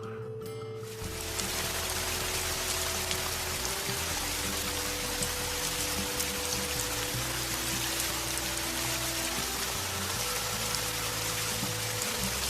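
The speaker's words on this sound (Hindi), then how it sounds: "कमरे में अब सिर्फ बारिश की आवाज थी।" Steady, even rain patters down after a quiet first second, a dense hiss of drops striking surfaces with a faint low hum beneath, continuing unbroken and fairly soft throughout.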